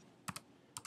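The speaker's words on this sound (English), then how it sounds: "I'll type in the address." Short bursts of computer keyboard typing as an IP address is entered, two quick pairs of close, crisp key clicks separated by a brief pause.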